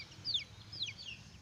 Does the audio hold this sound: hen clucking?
yes